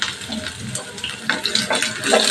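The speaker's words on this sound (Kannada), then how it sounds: "ಶುಂಠಿ ಫ್ರೈ ಆಗಬೇಕು." Ginger frying in a pan with mustard seeds, a steady close sizzle with crackling pops and a few stirring scrapes running throughout, no voices.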